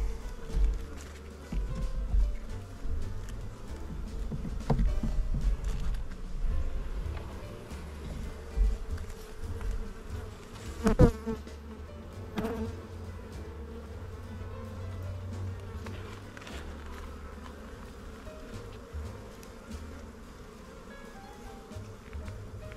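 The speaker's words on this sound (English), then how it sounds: "There's more bees on the next 2 frames" A low buzzing hum of many honey bees on hive frames fills the background, with occasional knocks and handling sounds close by.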